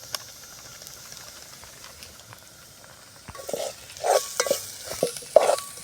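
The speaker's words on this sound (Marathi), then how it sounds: "मिरची पावडर टाकल्यानंतर हे थोडा वेळ हलवून घ्यायचं" Fried onion being stirred in a pan with salt and chili powder, a low hiss breaking into several distinct scraping stir strokes in the second half, close and moderately loud, with no voices.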